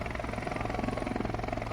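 A helicopter flies nearby with a loud, steady rotor drone and rapid rhythmic blade chop throughout, with no talking over it.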